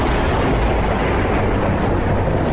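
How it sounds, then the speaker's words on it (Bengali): A loud thunder clap sound effect from an animated suspense story, a sustained rolling rumble that fills the whole stretch without pause, setting up a storm with heavy rain, and no voices. "সঙ্গে সঙ্গে কড়কড় শব্দে বাজ পড়ে কান দুটোতে যেন তালা ধরিয়ে দিল"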